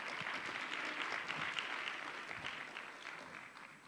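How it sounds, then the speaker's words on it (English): An audience at a business talk applauds, a dense wash of clapping that holds steady and then begins to fade toward the end. "Let's give him a round of applause again."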